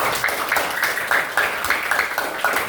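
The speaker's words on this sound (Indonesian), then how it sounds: "tepuk tangan dulu untuk kita semuanya" A classroom of students clapping together, a steady patter of many hands with rhythmic pulses, moderately close and without talk.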